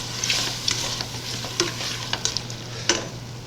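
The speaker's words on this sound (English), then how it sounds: "Let's go in with our shrimp. Get those seared off. Crank my fire back up to high." Shrimp searing in a pan over high heat, with a loud, close sizzle and crackle, frequent stirring scrapes and sharp spatters over a low hum; no speech.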